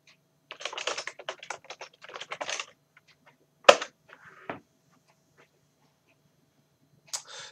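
Bursts of quick typing on a computer keyboard, a login entered in short clusters of clicks with pauses between, one sharper key thump, close and clear in a quiet room.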